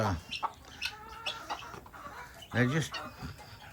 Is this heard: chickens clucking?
yes